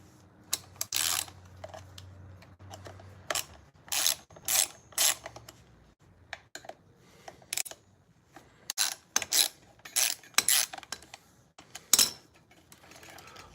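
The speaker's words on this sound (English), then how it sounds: "first I'm removing the two main bolts that hold the caliper in place" Ratcheting wrench clicking as the two main brake caliper bolts come off an Emove Roadrunner Pro electric scooter, quick bursts of close metallic ratchet clicks separated by short quiet pauses.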